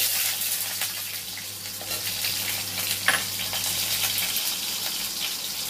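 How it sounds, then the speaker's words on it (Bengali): Diced potatoes hit hot oil in a pan while making a banana-flower and rice ghonto, giving a steady, close sizzle of frying with faint stirring clatter throughout. "আলু কুচোনোগুলো এর মধ্যে তেলের মধ্যে দিয়ে দিচ্ছি।"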